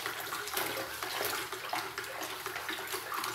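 A homemade bleach and salt solution is stirred vigorously, a continuous close sloshing, swirling liquid sound with steady intensity throughout.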